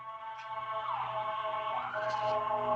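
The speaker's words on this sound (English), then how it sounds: "Pardon the sirens." Sirens wail in the distance, rising and falling sweeps over a steady drone, fairly faint and continuous throughout.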